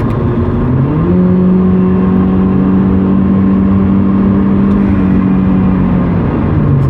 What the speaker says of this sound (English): The exhaust just added this deep tone rumble to the sound of my car